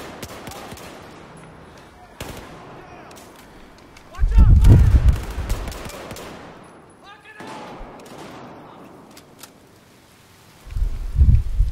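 Gunfire in the video game Battlefield 4, with dense rattling volleys and heavy booming impacts near and loud, over a busy battlefield mix and some voices.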